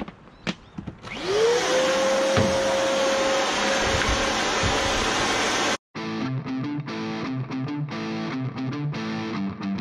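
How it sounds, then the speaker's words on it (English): A vacuum cleaner sucks ash out of an outdoor wood boiler, starting with a rising whine into a loud continuous roar with rattling debris, then cutting briefly before resuming with a choppier, pulsing tone. "So let's get the vacuum real quick."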